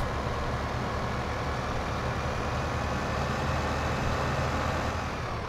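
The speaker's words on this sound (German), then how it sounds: "Wir stellen unseren Trecker wieder ordnungsgemäß in die Parkposition." Tractor engine in Landwirtschafts-Simulator 15, a steady, even rumble close by that runs without a break and with no talk over it.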